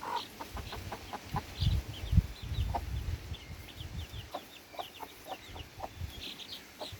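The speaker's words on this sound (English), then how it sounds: "They've got a bug and they're fighting over it." Young chicks cluck and cheep in quick, scattered bursts while squabbling over a bug, with a few louder scuffling thumps early on, close by and without talking.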